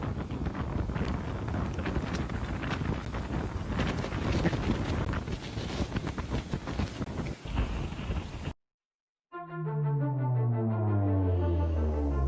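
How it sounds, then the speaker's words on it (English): Strong typhoon wind roars and buffets the microphone in a steady loud rush for about eight seconds, cut off abruptly and followed by a different sound with stacked tonal bands. "The wind is so strong."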